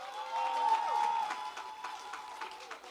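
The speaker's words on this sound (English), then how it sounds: "Give her a round of applause" Light applause from a modest audience at a school building handover ceremony, scattered distinct claps over a steady tone, moderately near and fading toward the end.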